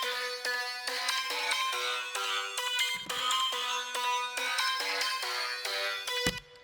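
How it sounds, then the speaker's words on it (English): Two layered Serum 2 plucky synth presets in an underground-style Ableton beat play a rapid, bright repeating melodic pattern of short plucked notes, close and steady with no voices. "I think they're both Serum 2 kind of plucky sounds."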